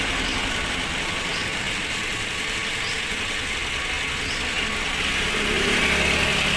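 A Toyota Rush car engine idles steadily and close by, a constant mid-range rumble with faint mechanical vibration and no voices.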